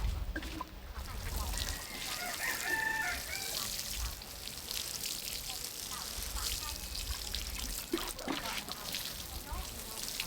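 Chickens and ducks on a rural farm call in the background, clucking and a faint crow, under a steady wash of outdoor noise and running water while people talk nearby.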